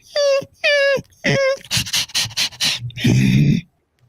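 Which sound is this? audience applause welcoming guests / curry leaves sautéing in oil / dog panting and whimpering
dog panting and whimpering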